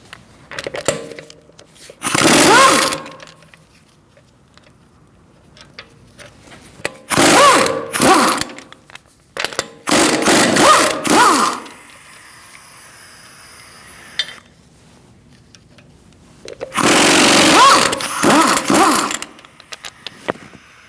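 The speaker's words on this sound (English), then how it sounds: "Using a 17mm socket, we're going to remove our wheel." A power tool with a 17mm socket spins the lug bolts off the front wheel of a 2008-2014 Mercedes-Benz C300 in several loud, close bursts of whirring and rattling, each lasting one to three seconds, separated by quieter pauses.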